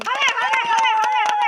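Rapid, steady hand clapping from a family playing a money challenge game, the claps pulsing evenly beneath a sustained chanting voice.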